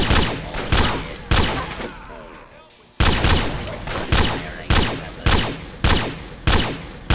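Heavy, evenly spaced shots from a modded Fallout 3, each one a sharp loud crack with a decaying tail, about a dozen in a steady rhythm with a brief pause partway, while someone talks between them.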